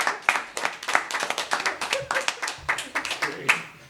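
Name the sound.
audience applauding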